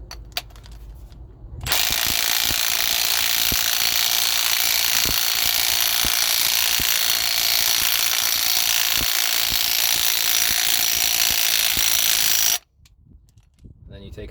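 An impact wrench tightens bolts on a 2010 Ford F150 two-inch lift kit in one long, loud, continuous rattling hammer lasting about eleven seconds, close by, with quiet shop sound before and after.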